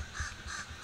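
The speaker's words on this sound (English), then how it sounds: "if this crow don't shut the heck up" A crow caws repeatedly outdoors, a short series of harsh calls at a moderate distance with no talking.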